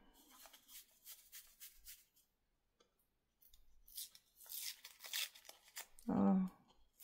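Adhesive tape is handled up close, quiet crinkling and rubbing in short bursts, then a brief, sharper rip near the end.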